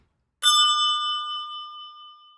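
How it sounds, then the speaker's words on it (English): A single loud bell strike with a bright attack and a long, clear ringing tone that slowly fades over about two seconds, heard alone against silence. "that bell is loud in my ears"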